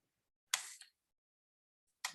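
Two sharp camera shutter clicks taken while snapping pictures, each a crisp mechanical burst standing alone in silence, the first slightly longer with a trailing rattle, the second about a second and a half later.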